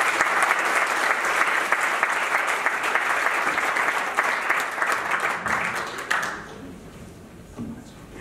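Audience applauding a guest introduced for a talk, a full, dense burst of clapping that holds steady for about six seconds, then drops away quickly to a quiet room.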